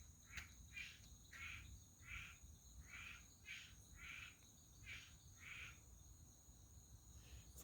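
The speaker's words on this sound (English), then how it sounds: "that is a frog who is enjoying either the clutter on the lanai or the swimming pool" A frog calls near a swimming pool and cluttered lanai, giving a steady series of short, evenly spaced pulsed chirps, moderately distant over a quiet outdoor hush.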